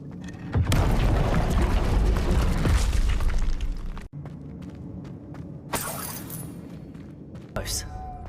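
An Incendio fire spell from Hogwarts Legacy erupts in a loud, roaring whoosh and blast for about four seconds, then drops to a quieter crackling bed with a few brief bursts afterward.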